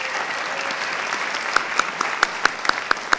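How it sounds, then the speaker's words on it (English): An audience applauds top scholars at a school honors night in a hall, with dense steady clapping throughout and a few sharp, louder claps standing out toward the end. "Please give these top scholars a round of applause"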